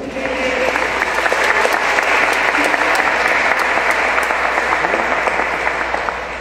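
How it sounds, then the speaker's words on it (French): A church congregation at Sunday Mass applauds in a dense, continuous wash of clapping, loud and sustained throughout with a faint background hum beneath. "Voilà, on peut l'applaudir."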